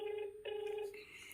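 A faint electronic phone ringing tone, steady and tonal, pausing briefly before resuming.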